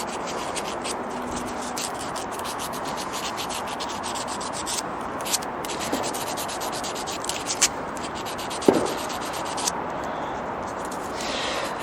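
A cloth rubs and scrubs a Ferguson T20 tractor's rotor arm, a steady close scratchy friction with a few light taps and clicks from the part being handled.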